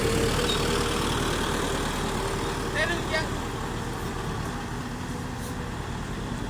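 A vehicle engine rumbles steadily at low pitch while trying to reverse on soft, muddy ground, loud and continuous throughout with a faint voice briefly heard over it.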